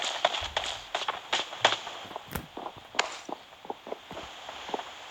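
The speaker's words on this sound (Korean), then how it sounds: "갑자기 발소리?" Footsteps in a video game, likely a shooter: a quick run of crisp steps sounds close and loud at first, then continues as softer, irregular footfalls.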